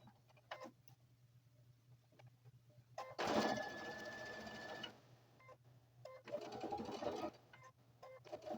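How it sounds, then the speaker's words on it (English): A sewing machine back stitching on a binding, running in two short whirring bursts, with faint ticks and handling noises between them over a steady low hum. "I have got to back stitch both sides to give them a secure"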